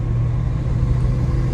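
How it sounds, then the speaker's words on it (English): Close, continuous low rumble of a Ford AU Falcon fitted with a turbo Barra engine running on stock catback exhaust, with only a faint hint of turbo noise in the steady drone and no talking. "It does make a little bit of turbo noise"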